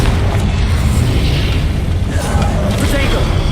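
Confringo spell blasts in the video game Hogwarts Legacy, producing heavy, rumbling booms with a sustained low roar that fills the clip, loud and close.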